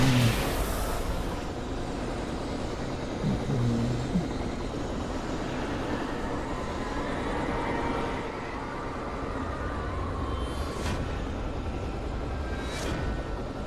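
Helicopter lifting off in the game Alan Wake Remastered, a broad, steady rotor and engine roar at moderate level that holds for several seconds, with a couple of brief hissing swells near the end and no voices.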